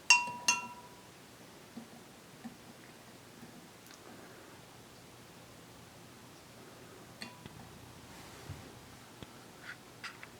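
A spoon clinks against a container while yeast, salt and sugar are mixed, with two bright clinks at the start, then sparse faint taps and soft stirring over a quiet background.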